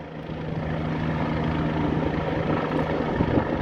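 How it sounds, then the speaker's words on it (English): A Swedish police helicopter passes overhead during a chase, a steady thudding rotor drone with a low engine hum, loud and continuous throughout without speech. "That is police helicopter."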